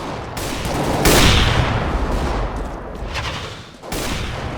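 Dense bursts of gunfire from the video game Counter-Strike: Global Offensive, loud and sustained with rapid overlapping shots, a short lull near the end and then a renewed volley, with no talking.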